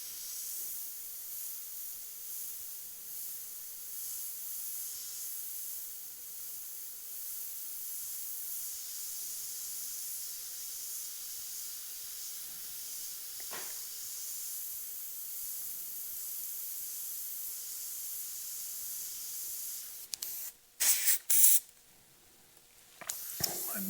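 An airbrush sprays black and grey paint onto a leather saddlebag skull design, a long steady close hiss that cuts off briefly near the end amid a few sharp bursts.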